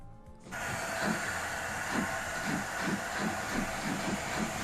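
A steam locomotive in the game Transport Fever 2 chuffs along with a rhythmic series of soft puffs over a broad, steady hiss, starting abruptly and staying faint and even.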